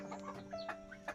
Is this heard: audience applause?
no